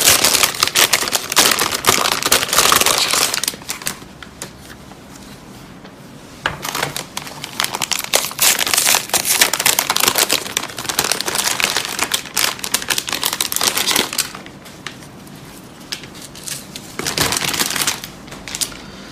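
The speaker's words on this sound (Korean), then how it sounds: "비닐 개봉해 보도록 하겠습니다." Plastic anti-static packaging from two RTX 2060 graphics cards is unwrapped, giving loud, close crinkling and crunching in long bursts separated by short quieter pauses, with no talk.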